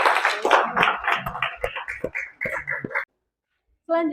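Students in a classroom applaud a group presentation with a dense burst of clapping and chatter that fades and stops abruptly, followed after a short silence by a voice.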